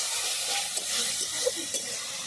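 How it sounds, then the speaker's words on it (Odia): Chicken frying with ginger, garlic and onion masala on a wood-fired stove sizzles in a steady, close hiss, with a few soft stirring clicks and pops. "ଚିକେନ କଷା ଚାଲିଛି ଅଲରେଡି"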